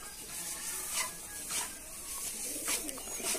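Rajshahi Giribaz pigeons at a pigeon farm coo softly in several short, faint calls over a low background hiss.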